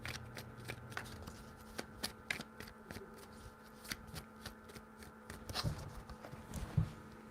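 Tarot cards shuffled by hand, quiet close riffling and soft slapping clicks in an irregular rhythm over a low background hum.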